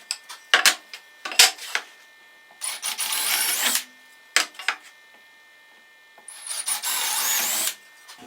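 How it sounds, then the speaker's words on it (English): A power drill bores bolt holes through wood in a table saw jig, with two longer whirring runs of about a second each. Shorter scraping bursts come before and between them, the whole fairly quiet and close with no talk. "is drill out those holes there."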